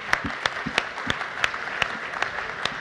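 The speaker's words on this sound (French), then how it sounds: "moi je vous propose de vous applaudir et de dire bravo à tous vos projets" Audience applauding project finalists at a French awards ceremony, sparse and uneven claps with distinct individual hand strikes standing out at a steady moderate level.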